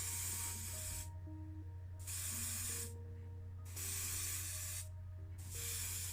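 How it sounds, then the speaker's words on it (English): An airbrush sprays paint onto a Matchbox Wildcat Dragster (Ford Mustang) model car in steady hissing bursts, about four of them, each broken by a short pause, with a low pump hum running underneath. "waiting for the air pump to catch up, and then it seemed like my airbrush was back to life again"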